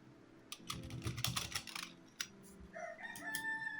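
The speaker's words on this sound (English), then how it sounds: "Sorry, guys, for keyboard." Fast bursts of clacking on a computer keyboard come up close, then stop and give way to a rooster crowing in the background near the end.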